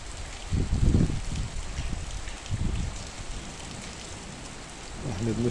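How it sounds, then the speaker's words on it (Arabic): Rain falling at dawn in Gaza, a steady wash of drops with low rumbles of thunder rolling in briefly, close and moderately loud, with no voices. "صوت الرعد والبرق"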